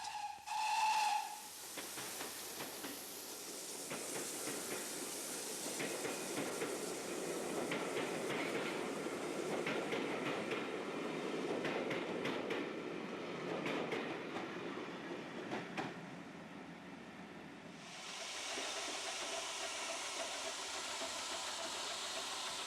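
A pannier tank steam locomotive chuffs and hisses as it hauls coaches past into a station, preceded by a short whistle toot, with rumbling wheels and escaping steam throughout.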